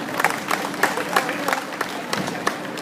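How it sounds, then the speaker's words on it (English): Audience applause at an equestrian educational clinic at Equitana, with a dense, steady wash of clapping from a crowd filling the short moment. "So please, a round of applause if you will for Judy Harvey, ladies and gentlemen."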